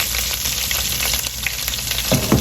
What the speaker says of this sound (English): I'm going to allow this to fry for about a minute or so.